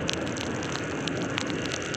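Heavy rain falls at Karla hill near the Ekvira temple, a dense, steady hiss with scattered drop patter close by and no voices.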